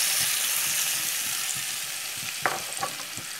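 Onion and tapioca sautéing in a pan, a dense steady sizzle close by with a few soft scraping stirs toward the end, no voices.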